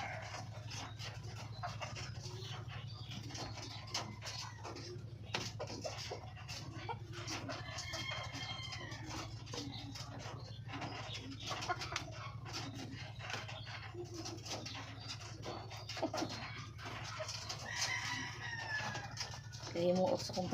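Chickens cluck and roosters crow in a farmyard, the calls rising in scattered bursts over a steady low hum, with a dog barking among them.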